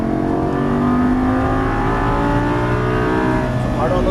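A Lamborghini Gallardo LP550-2 accelerates hard on a Las Vegas race track, its engine roaring steadily with climbing pitch while an instructor talks over it.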